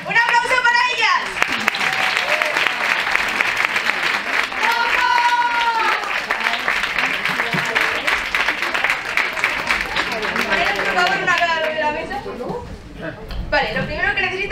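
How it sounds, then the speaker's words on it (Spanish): Sustained applause from an audience at a children's festival in Albelda de Iregua as two volunteers come up, continuous clapping with children's voices and shouts rising over it, easing briefly near the end. "¡Un aplauso para ellas!"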